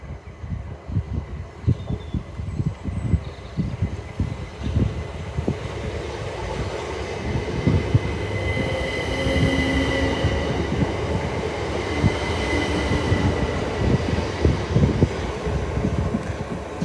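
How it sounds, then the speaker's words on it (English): A Southern class 377 electric train, unit 377325, pulls out of Tonbridge station, its rumble and clattering wheels swelling as it gathers speed, with faint squeals and a humming motor tone overhead. "377325 will be taking this one out."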